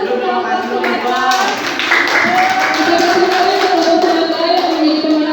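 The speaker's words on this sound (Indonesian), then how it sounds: "Kita beri tepuk tangan untuk kelompok Sumatera" Classroom applause for a winning student group, a steady patter of hands clapping for about five seconds with children's voices chattering over it.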